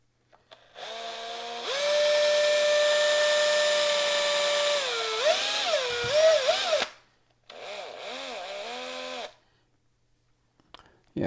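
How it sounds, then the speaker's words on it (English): A handheld electric drill whirs steadily for several seconds, its motor pitch wavering and dipping near the end, then runs again in a shorter burst before stopping; close and fairly loud with no talk. "Yeah, this is from my drill."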